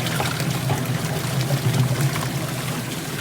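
Kenmore washing machine rinsing a load of towels, with water churning and splashing in a steady, continuous wash that stays even and fairly loud throughout, without any talking.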